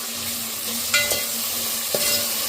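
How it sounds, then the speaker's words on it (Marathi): Chopped tomatoes being sautéed with browned onions for anda bhurji, a steady sizzle close up with two sharp spatula scrapes against the pan, no talking. "टोमॅटो असं छान परतून घ्यायचं छान परतून घ्यायचं आहे"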